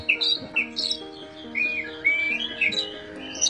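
An orange-headed thrush calls at close range with repeated sharp, squawky whistles and chirps in quick, uneven bursts over several seconds.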